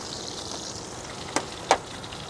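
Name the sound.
big sausage frying in a pan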